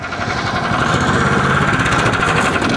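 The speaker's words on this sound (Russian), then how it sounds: "Сейчас попробуем тот же самый груз взять самым большим мотобуксировщиком в линейке Regal Moto." A large REGULMOTO motorized towing sled pulls a 500 kg load, its small engine running at a steady, buzzing drone, loud and close throughout with no voices.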